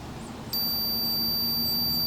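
A wood moisture meter sounds a steady, high electronic beep when its reading climbs past 16% in stacked firewood, the tone starting abruptly and holding continuously, close and clear.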